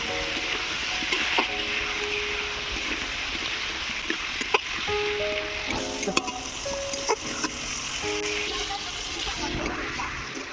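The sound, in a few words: potatoes sautéing in a pan for methi curry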